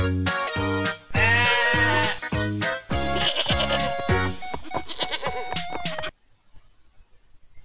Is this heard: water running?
no